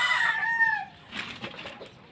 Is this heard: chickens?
yes